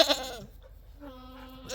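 Goats bleating on an off-grid homestead, a few short wavering calls at close range, with a quiet gap between the first bleat and a longer, steadier cry that follows.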